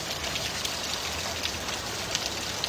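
Downpour of heavy rain, constant dense patter and hiss with a few slightly louder drop hits, brief and unbroken.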